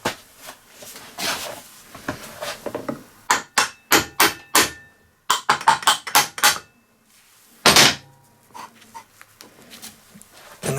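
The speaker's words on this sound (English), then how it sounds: "And then you literally push it in. Sorry, a little tappy mallet needed." A small mallet taps a rear roller part into place on a Hayter 48 479B lawn mower, producing sharp, close knocks in irregular bursts, some quick runs of several strikes, separated by brief pauses.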